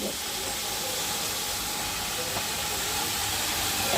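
Lentils and rice being washed in water, a steady hissing rush of running water with faint sloshing, close and continuous throughout.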